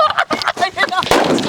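A fancy firecracker bursts with a sharp, loud crack followed by a crackling spray of noise, preceded by excited voices nearby.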